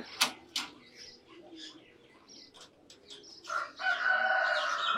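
Young roosters on a farm that also keeps peacocks and pheasants, with a crow rising near the end over scattered bird chirps and clucks, preceded by a few sharp calls.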